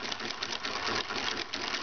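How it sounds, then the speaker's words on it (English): A Stitch Mistress toy sewing machine made by General in California runs continuously, giving a fast, even, rattling whir up close with no talk. "Today I'm having here the Stitch Mistress sewing machine."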